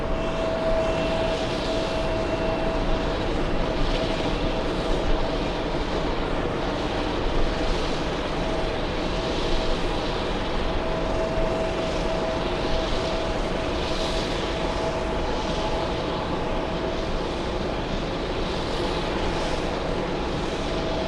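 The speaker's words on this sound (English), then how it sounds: "Delta 29 flying in from Nice." A Delta Boeing 767-400 airliner arriving at JFK produces a continuous, loud broadband engine roar for the whole stretch, with a faint steady whine running through it and no voices.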